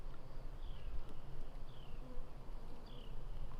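Honey bees hum at a hive during a frame inspection with a little smoke, a steady low drone with a few faint higher insect whines passing close by.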